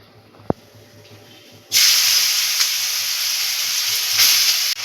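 Potatoes dropped into hot white oil with nigella seeds in a pan, a single sharp clatter followed by a sudden loud, steady sizzle that keeps going, close up.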